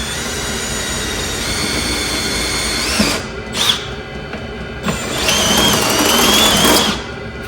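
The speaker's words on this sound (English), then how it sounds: "So I'm going to take the drill." A power drill whirs loudly and steadily while drilling a hole in a wood stove, dipping briefly twice before revving up again near the end, close up with no talking.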